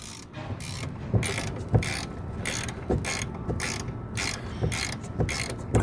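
An 18 millimeter ratcheting wrench clicks in quick, regular bursts on a control arm bolt of a lowered 2019 Chevy Silverado, with each sweep of repeated pawl clicks followed by a short pause, close and fairly loud.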